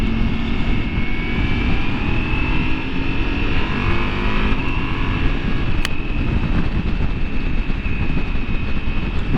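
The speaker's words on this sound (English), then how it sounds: "it's a Ducati V4, and wow, Ducati V4 engines are very special for sure." A Ducati Multistrada V4S motorcycle's V4 engine drones steadily while riding, a loud continuous rumble mixed with wind rush and no speech.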